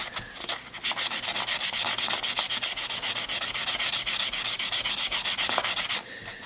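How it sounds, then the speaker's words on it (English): Steady back-and-forth rasping of 100 grit sandpaper worked by hand over the wooden body of a damaged Martin guitar, close up and continuous for several seconds with a fast, even rhythm. "I think it's like 100 grit sandpaper, something like that. So we'll soften all these little spots."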